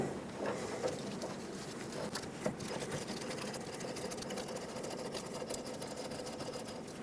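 An outer tie rod being threaded back onto the tie rod shaft of a 2007-2014 Chevrolet Silverado 2500 HD, a rapid rhythmic metallic whirring and clicking, close and continuous with a few sharper knocks, no talk.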